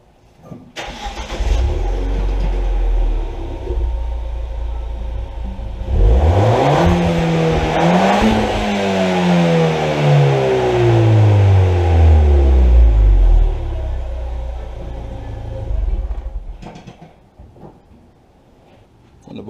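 Ford Fiesta ST with its stock intake starts up, idles, then revs hard several times with rising and falling engine pitch, loud and close, before settling back to idle.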